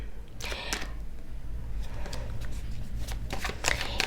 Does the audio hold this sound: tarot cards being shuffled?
yes